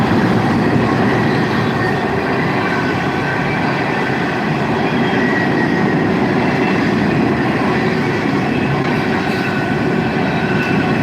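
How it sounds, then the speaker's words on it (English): Freight train cars rolling past close by on a line in the Lower Hudson River Valley, New York, a continuous loud rumble and clatter of wheels that holds steady throughout without any voices. "Watch, the trains coming in."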